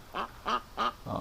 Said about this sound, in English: Quite a few ducks actually down at the creek.